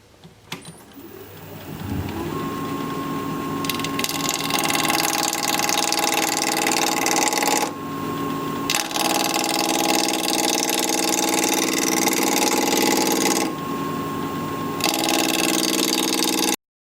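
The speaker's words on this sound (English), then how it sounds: "I'm going to be spinning at 1200 RPM with a 1/2 inch standard grind bowl gouge" A wood lathe spins a bowl blank at 1200 RPM, a steady close mechanical hum with a faint whine, briefly dipping twice as the motor pauses or the gouge lifts.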